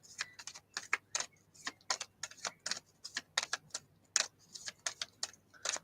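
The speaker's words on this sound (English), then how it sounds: "I've shuffled the cards a little bit, spread them out" Tarot cards shuffled and spread across a surface during a reading, giving a quick run of crisp, papery clicks and flicks in uneven bursts, close and fairly quiet with no talking.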